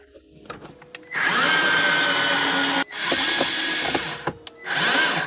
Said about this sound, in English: Now let's screw in the display with two 20 Torx.